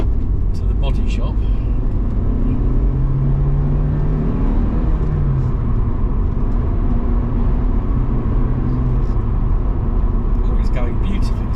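A Rover 200 BRM drives along with a steady, loud low rumble of engine and road noise from inside the cabin, while a person talks over it.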